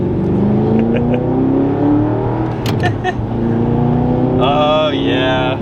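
A warmed-up Audi R8 sports car engine idles loudly and then revs, with a sharp throttle blip midway and a rising rev near the end; a person speaks over the engine.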